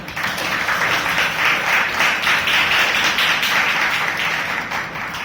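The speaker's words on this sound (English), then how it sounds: "Let us have a big round of applause for everyone." A room full of people at a Toastmasters meeting claps together in steady, dense applause that holds for several seconds before tapering slightly, close and lively with no talking over it.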